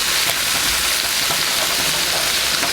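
A Sam's Choice Angus burger patty, just flipped on the first side and still seasoning, sizzles loudly and steadily in the pan, a dense continuous crackle with no talking.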